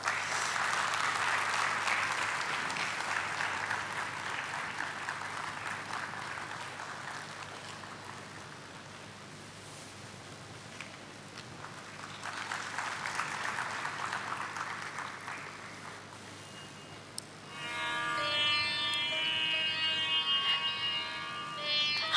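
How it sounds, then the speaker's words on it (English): A spiritual gathering's audience applauds as Jayanti Didi is welcomed onto the dais, a steady wash of clapping that swells twice and then fades into a brighter, more patterned crowd sound near the end. "let's welcome Jayanti Didi onto the dais with round of applause"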